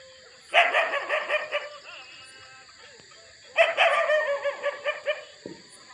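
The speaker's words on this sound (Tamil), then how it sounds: "நாய் குலைக்குது" A dog barks at night in two rapid bursts of several yelping barks each, fairly close, with a high electronic whine running steadily underneath.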